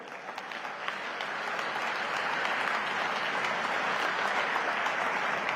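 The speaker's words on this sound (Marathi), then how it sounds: "या टाळ्या माननीय देवेंद्र फडणवीस साहेबांच्यासाठी आहेत" Sustained applause from a large crowd at a BJP victory rally in Solapur, steady and dense throughout without pause, clapping loud and close with no speech over it.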